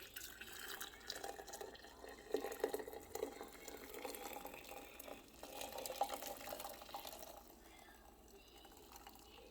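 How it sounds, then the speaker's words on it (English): Mint tea is poured into a jar on a stovetop, a faint, steady trickle of liquid that runs for several seconds before tapering off, with a voice speaking quietly alongside. "So let's pour a little bit into here."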